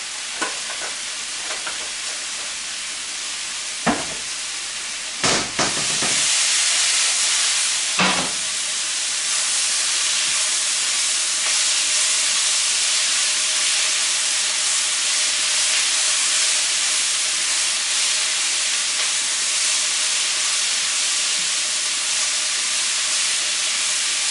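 Onions frying in a pan as they caramelize, a steady loud sizzle and hiss that fills the whole stretch, with a few stirring scrapes near the start.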